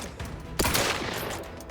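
A single sharp gunshot crack from The Outer Worlds 2, loud and close, followed by a short decaying echo over a low ambient background.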